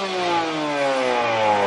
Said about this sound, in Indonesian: Nah, itu tadi suara knalpotnya teman-teman.